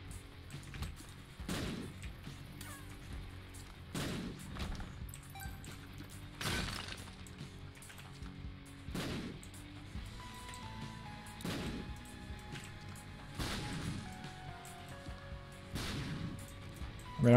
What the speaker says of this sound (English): I mean, I'm pretty sure I got hit by the epic explosion there.